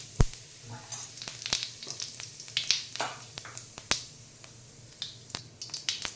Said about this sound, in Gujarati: તેલ તપી ગયું છે તો હવે પહેલાં જીરું એડ કરીશું